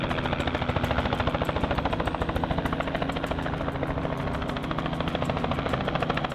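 A helicopter flies close overhead during a net gun animal capture, its rotor chopping in a fast, steady pulse over a dense engine roar that stays loud and continuous throughout.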